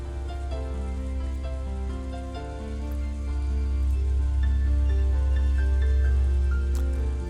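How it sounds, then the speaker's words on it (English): Rain drumming steadily against a window in the Umineko visual novel, a soft continuous patter of drops under sustained background music, unchanging and moderately loud. "the obnoxious pounding of the rain against the window"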